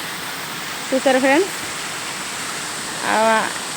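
A waterfall's steady, rushing roar of falling water fills the whole stretch, with a voice speaking briefly twice over it.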